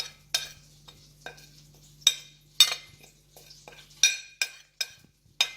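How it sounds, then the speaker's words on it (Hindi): Salt, black pepper and spices being mixed in a bowl for chicken quesadilla filling, heard as a series of crisp scraping and clinking strokes of a utensil against the bowl, close and irregular, with quiet pauses between. "ये हमारे स्पाइसेस जो थे इनको इस तरह से मिक्स करेंगे"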